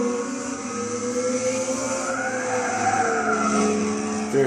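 A Mitsubishi Concept XR-PHEV EVO Vision Gran Turismo car drives at Tsukuba in Gran Turismo 6, its engine tone rising and falling through the gears, with a short tire squeal near the end.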